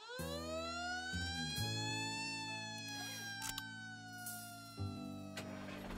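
A cartoon fire engine siren wails in rising and falling tones over a bright animated music bed, loud and close, with a short interruption partway through before the siren returns.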